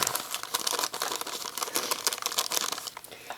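Plastic bag crinkling and rustling in steady, close bursts after baking walnut chocolate chip cookies, a busy crackly texture with no talk over it.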